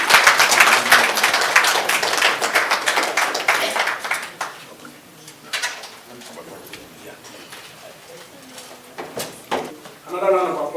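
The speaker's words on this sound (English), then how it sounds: "A round of applause for the" Applause rises at a Nigerian Igbo community business banquet, with loud, dense clapping at first that thins out and fades, followed by quieter room murmur and a voice speaking near the end.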